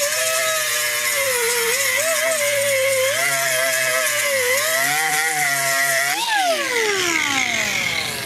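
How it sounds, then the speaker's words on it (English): Power sander working a truck's hood and body panels, a loud continuous whine that wavers in pitch, rising and then winding down near the end, with no voices. "So everything's being sanded right now"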